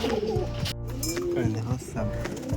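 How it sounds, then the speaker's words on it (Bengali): Pigeons cooing while they bathe, repeated low rolling coos from several birds close by, with a brief splash or flutter and a person talking over them. "পায়রাগুলোর চান করার দৃশ্যটা দারুণ লাগে এই টাইমটা দেখতে।"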